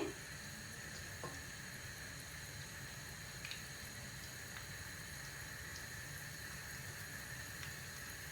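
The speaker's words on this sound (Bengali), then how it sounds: "তো আমি তেল দিলাম, বড় একটা পেঁয়াজ দিছি" Onion sizzling in oil in a pan while chicken keema is being cooked, giving a steady, faint, continuous hiss with occasional small pops, with no talking.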